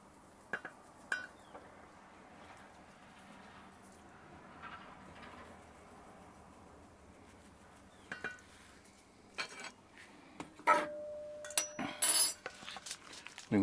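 Mayonnaise, sour cream and everything seasoning being mixed in a bowl, with quiet scraping that gives way to sharper utensil clinks against the bowl toward the end.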